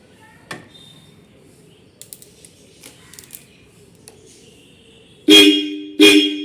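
Two loud, short Royal Enfield motorcycle horn honks near the end, following quiet mechanical clicks and handling noise after fuses are reseated.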